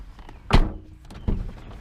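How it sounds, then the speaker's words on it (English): The door of a 2009 Honda Accord LX shuts with a solid low thunk close by, followed a moment later by a second softer knock, with no one speaking. "I close the door"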